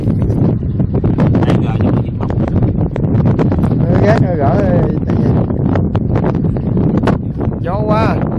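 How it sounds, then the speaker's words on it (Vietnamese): Strong wind buffets the microphone aboard a boat, a constant loud roar with gusty rumble throughout, while people talk over it. "Gió quá"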